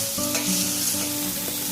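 Sambar poured and stirred into a pan of fried mustard seeds, curry leaves, green chillies and onion for a sprouted horse gram curry, giving a steady close sizzle with scraping spoon strokes throughout.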